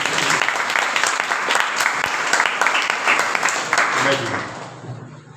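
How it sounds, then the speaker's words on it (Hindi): Audience applause at a motivational talk on education: dense, loud clapping from a crowd that continues steadily for several seconds before thinning and fading out near the end. "एक बार तालियां हो जाए"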